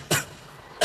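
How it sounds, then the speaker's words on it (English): A man clears his throat in two short, rough bursts separated by a brief pause, close and fairly loud in a quiet studio setting. "I was just clearing my throat."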